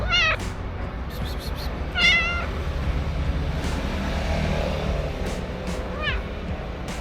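Street cat at a closed theatre in a Turkish seaside town, meowing three times in short, clear, fairly close calls against steady traffic rumble from cars and trucks.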